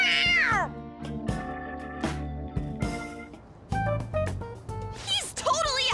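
Cat in Persona 5 meowing in several bright, rising and falling cries at the start and end, mixed with character voices talking between them.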